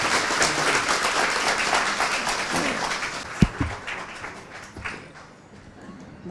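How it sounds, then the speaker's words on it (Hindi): Crowd applause at a Hindi-language political gathering in support of Dipender Hooda, a dense, steady wash of many hands clapping that fades toward the end, with a few sharp taps standing out midway. "जबरदस्त तालियां"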